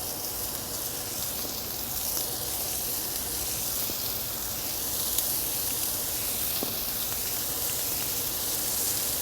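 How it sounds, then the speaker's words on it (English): Meatballs sizzle steadily on a hot plancha grill, a continuous bright hiss with occasional small pops, close by and uninterrupted. "I think that's one of my favorite sounds, is that sizzle."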